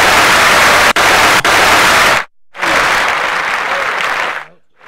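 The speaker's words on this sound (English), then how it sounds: "So Kendrick Lamar, clap that up." Loud, dense clapping from an audience for Kendrick Lamar, two sustained bursts broken by a sharp cut and brief gap, the second fading out near the end.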